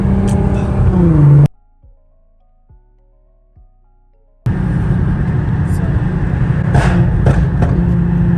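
An Infiniti Q50 with a pop-and-bang exhaust tune revs loudly and close, its heavy drone cutting out to near silence for a few seconds before roaring back, with voices audible over it.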